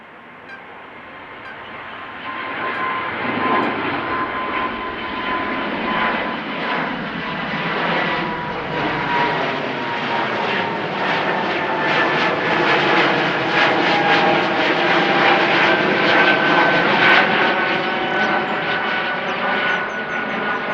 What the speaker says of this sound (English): I have to say they make a good sound when you hear them fly over like so.